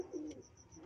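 Pigeons coo softly with a few low, throaty coos in a quick sequence, faint and slightly distant, with a brief high chirp cutting in partway through.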